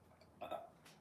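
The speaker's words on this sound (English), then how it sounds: "Keeps burping." A single short, throaty burp erupts midway, followed by a fainter belchy trail, close and fairly loud in an otherwise quiet room.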